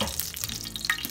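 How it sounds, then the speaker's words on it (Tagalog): Dried milkfish (daing na bangus) fries in oil, giving a short burst of crackling, spattering sizzle heard up close. "Tapos na natin iprito yung isda, yung bangus, yung daing na bangus."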